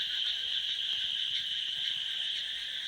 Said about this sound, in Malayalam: മാക്രികളുടെ കരച്ചിൽ കേട്ടാ, നിറച്ച് മാക്രി ഉണ്ട് ഇവിടെ